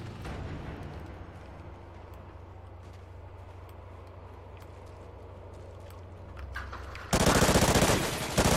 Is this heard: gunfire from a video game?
yes